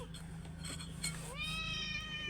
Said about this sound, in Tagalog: pasensya na kayo sa pusa ko, makulit guys.